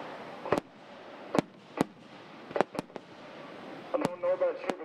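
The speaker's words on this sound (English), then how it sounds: "it was then time for a spectacular fireworks display" Fireworks display at an evening local event: sharp, loud bangs scattered irregularly over a steady crowd and background rumble, ending with a crackling cluster of bursts.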